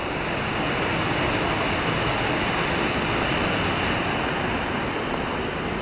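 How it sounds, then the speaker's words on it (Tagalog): The waterfall on the Salipit River in Alfonso, Cavite, gives off a dense, steady roar of falling water. It is loud and unbroken, with no voices over it. "Yan yung falls guys Kita nyo ba?"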